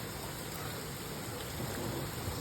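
Heavy rain pours down steadily on a mountainside, a dense, continuous hiss of falling water with no breaks or voices.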